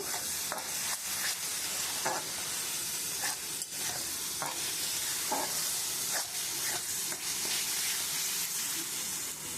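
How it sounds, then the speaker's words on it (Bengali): Spice paste with cumin and chili powder sautés in a pan under a continuous loud sizzle, with repeated rhythmic spatula strokes and scrapes throughout and no talking. "আমি মশলাটা অনেকক্ষণ কষিয়ে নিয়েছি"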